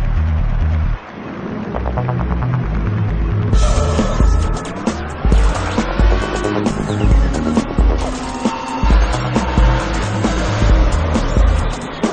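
Racing game Real Racing HD on an iPad, loud constant car engine roar with rising and falling revs, tire squeals and skids over a continuous game soundtrack, no voices.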